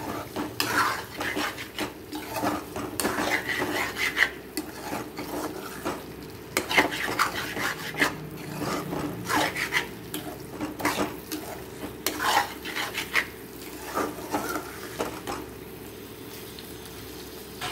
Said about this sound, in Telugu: ఇవన్నీ మటన్ వేసుకుని మసాలా అంతా పట్టేటట్టు కలుపుకోవాలి మంచిగా.